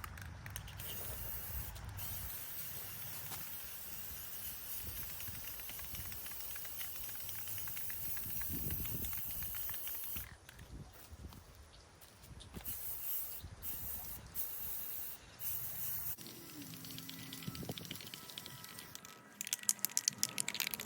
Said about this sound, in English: I'm going to go ahead and spray paint it.